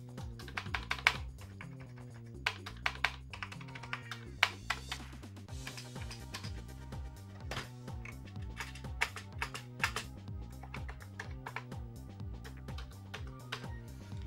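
Rapid keystrokes clatter on a Commodore VIC-20 keyboard, a steady run of close, crisp clicks and thumps of irregular rhythm with no talk.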